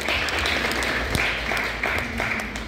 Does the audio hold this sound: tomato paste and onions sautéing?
no